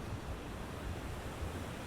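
Steady ocean surf rolls in as a continuous broadband wash with a soft low rumble, the waves sounding close and unbroken, with no voices.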